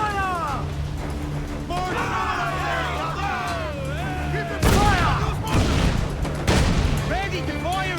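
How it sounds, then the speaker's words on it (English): Ship cannon fire in the video game Assassin's Creed IV, set in 1718, with heavy booms and volleys standing out over steady battle noise and a crew's babble of shouting voices. "Ready to fire, sir! Enemy firing!"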